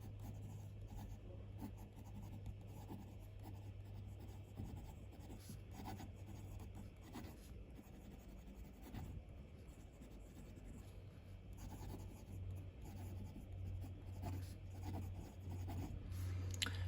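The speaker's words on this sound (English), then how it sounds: "Let's just do a writing sample." A Fine Writing International Fenestro fountain pen scratches steadily across smooth 90 GSM Clairefontaine paper, a faint, close, continuous rubbing with small pauses between strokes and no talk.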